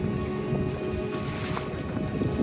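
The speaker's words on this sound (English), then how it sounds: "Look at those waves crushing" Ocean waves crash and roll onto a Mexican beach near a dinghy, a dense continuous roar of surf with gusting wind noise close to the listener.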